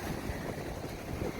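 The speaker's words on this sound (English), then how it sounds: "It's getting very windy here." Strong wind buffets the microphone by a wild sea, a steady, loud rushing roar with no pauses and no voices.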